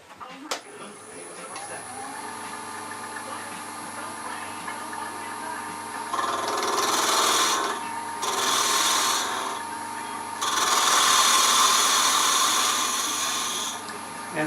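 A turning tool shapes a miniature wooden bird house spinning on a lathe, the motor's steady hum overlaid by several rasping, scraping cuts in bursts of one to three seconds.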